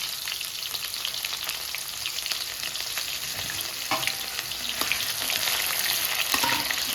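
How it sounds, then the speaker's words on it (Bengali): Raw onions sizzle and fry in a pan for a chickpea curry, a loud, close, continuous crackle with occasional stirring scrapes, growing slightly louder toward the end, with no talking. "দিয়ে দিচ্ছি কটা কাঁচা পেঁয়াজ।"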